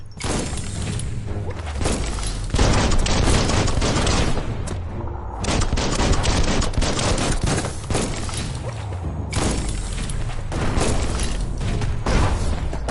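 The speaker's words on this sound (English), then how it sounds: "It's a bomb lobber." Bomb lobber weapon explosions in the video game Biomutant, a dense, loud stream of overlapping blasts and thuds filling the whole stretch, with brief dips before the barrage resumes.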